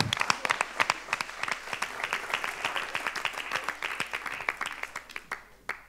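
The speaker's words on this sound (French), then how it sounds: "que est Laura Cadeau, que la podem applaudir" Audience members at an Occitan-language stage show in Albi clap with crisp, distinct slaps, a modest crowd whose applause stays moderately loud and uneven before thinning toward the end.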